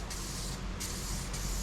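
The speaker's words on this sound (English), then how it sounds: "You can end up with a pretty good result using spray paint." A rattle-can spray paint aerosol hisses steadily onto a Fender guitar body, in short bursts broken by a brief pause, close and fairly loud with no talk.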